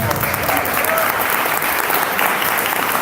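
Audience applause at a tech hackathon pitch event in Tokyo, a steady, dense wash of clapping that fills the room without a break, with faint voices mixed in beneath it.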